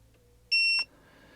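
One short, steady electronic beep from a temperature controller sounds clearly for about a third of a second amid quiet background hum.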